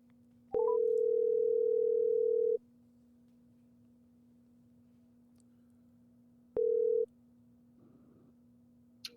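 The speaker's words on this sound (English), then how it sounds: "Let's see if we can get Nathan on the phone." Telephone call tones on an outgoing call: a steady ringback tone sounds for about two seconds, pauses, then returns briefly, over a faint constant background hum.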